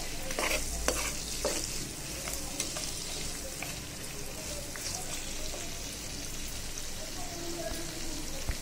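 Ground and dry whole spices fry in hot oil in a pan, giving a continuous close sizzle with occasional scraping stirs throughout.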